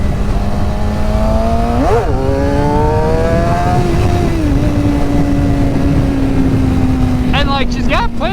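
A Suzuki GSX-R 750 motorcycle engine drones loudly with rising pitch through the gears, shifting up and settling, under steady wind roar, with a voice speaking over it.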